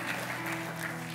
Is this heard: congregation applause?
yes